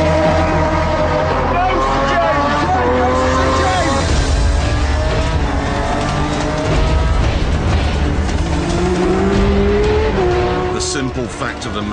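Race cars, including a Porsche, roar past at speed, loud engine notes rising and falling with gear changes and occasional tyre squeal, continuous and close throughout.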